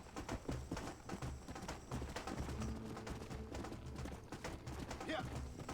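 Horse hooves gallop in the Western video game Red Dead Redemption, a steady clip-clop rhythm running through the whole stretch at moderate loudness, mixed with game ambience and faint background voices.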